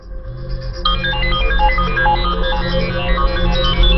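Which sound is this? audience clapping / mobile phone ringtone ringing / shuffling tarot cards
mobile phone ringtone ringing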